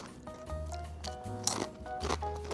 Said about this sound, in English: You can hear that, they're very crunchy.